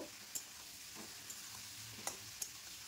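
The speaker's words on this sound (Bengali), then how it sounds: "গ্যাসের ফ্লেমটা হাই রেখে মিনিট 2-3 চিকেনকে তেলের সঙ্গে ভেজে নেব" Marinated chicken frying in oil on a high gas flame makes a faint, steady sizzle broken by a few soft clicks from stirring or spattering, with no talk.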